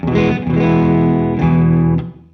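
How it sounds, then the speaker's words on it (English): Electric guitar through a Morgan MVP23 amp with effects pedals, two sustained chords ringing out with chorus and mild distortion, loud and alone before trailing off. "Let's now just clear it up a little bit to use some pedals, so it sounds like this now."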